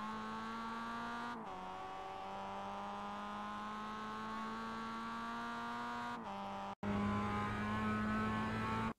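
A Mazda MX-5 race car engine in iRacing at Jefferson Circuit holds a loud, steady buzzing drone with slowly rising pitch, then drops briefly on a shift before roaring on again close up.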